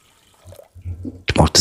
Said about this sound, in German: Mit Wasser füllen.